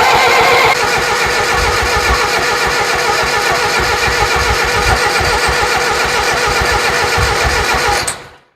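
A Ford 7000 farm tractor diesel engine cranks to start, giving a loud, steady, rough mechanical churning close by that carries on unbroken for about eight seconds before cutting off abruptly.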